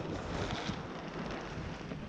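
Wind blows around greenhouse polytunnels with torn plastic film, a steady, loud, broadband roar with heavy buffeting on the microphone and no voices.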